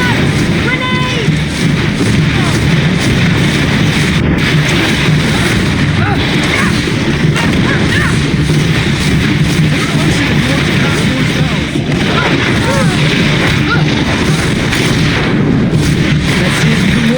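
Heavy, continuous booming and crackling from a grenade blast amid battle in the video game GreedFall, a dense loud wash of rumble that never drops off, with voices talking over it.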